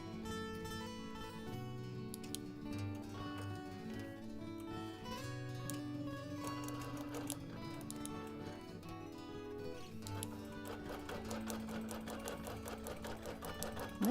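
A sewing machine stitches basting lines across a quilt, its needle running in a fast, even mechanical rhythm that speeds up toward the end, close and prominent with no talking.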